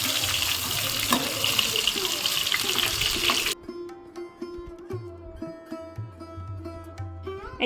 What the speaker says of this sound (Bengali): বেশ কিছুটা তেল দিয়ে বেশ খড়া করে পটলগুলো ভেজে নিতে হবে